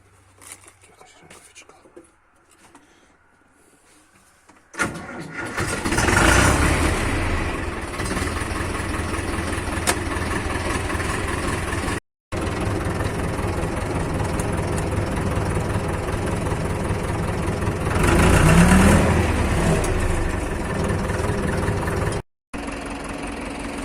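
Ursus C-355 tractor diesel engine starting after a few quiet seconds, then running loud and close with a steady knocking idle and a swell of revving, with brief dropouts and a voice speaking over it.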